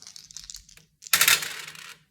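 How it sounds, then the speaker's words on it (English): Small dice clatter briefly on a surface, a few soft taps followed by a sharp rattling tumble that fades within about a second, close and with no speech. "I have these dice."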